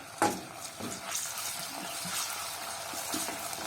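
Chicken gizzards hit golden fried onion in a hot pan and are stirred. A sharp clatter opens a steady, close sizzle, with scraping strokes of the spoon and no talking.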